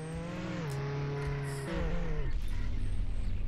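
A car engine in Roblox Jailbreak, a steady tonal hum that dips in pitch, then shifts into a louder, rougher drone partway through, close and continuous with a faint voice briefly heard.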